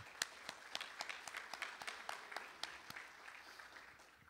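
Faint applause from an audience at a Brazilian law talk on young advocacy, with distinct scattered claps ringing out over a soft wash of hands that thins toward the end.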